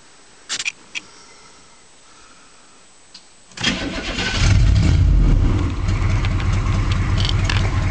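A 1986 Chevrolet Suburban Silverado with a 6.2 diesel cold starts: a few faint clicks in near silence, then the engine cranks and catches with a loud low rumble that settles into a steady, even idle.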